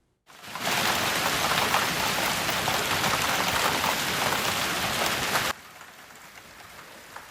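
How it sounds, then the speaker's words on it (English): Hail pours down across central Ohio in a dense, steady roar of hard impacts that starts abruptly, holds loud and even for about five seconds, then cuts off to a faint background hiss. "that's more sound from all that hail that landed across central Ohio last night"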